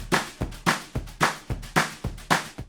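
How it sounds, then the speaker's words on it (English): Drum samples from Splice, a stomp, a shuffle loop and a clap loop, repeat as evenly spaced hard hits with a deep thump and a bright clap, about two per second, close and alone. "I'm going to supplement these sounds by adding a stomp sound, a shuffle loop, and then a clap loop"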